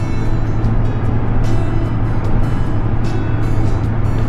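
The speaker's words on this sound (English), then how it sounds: "I got one more car back there that I'm gonna let pass" Car passing on an interstate highway during a road trip: steady loud road and engine rumble with broadband tire hiss swelling in a few waves as the vehicle goes by, no talking.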